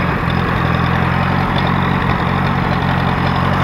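Allis Chalmers tractor with a wide front end conversion running steadily in second gear, a loud continuous low engine drone with even rhythm and no talk.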